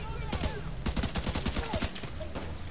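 Rapid bursts of gunfire from The Division 2, several close, sharp overlapping shots in quick succession forming a dense volley over a steady game background.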